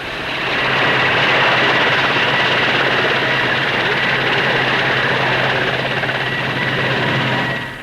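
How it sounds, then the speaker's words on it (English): Bristol 192 twin-engine helicopter in flight at the 1959 Farnborough Air Show, a loud sustained rotor and engine drone with a steady low thrum that holds constant before easing slightly at the end. "The Bristol 192 is a twin-engine helicopter in production for the Royal Air Force."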